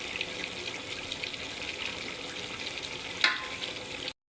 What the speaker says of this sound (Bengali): ভাজা জিরাটা দিয়ে দিচ্ছি